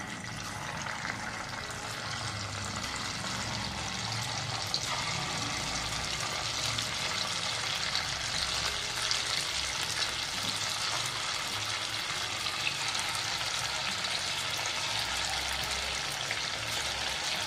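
Potato and rice bhaji batter frying in hot oil as a steady, dense sizzle that runs unbroken at an even, moderate level throughout.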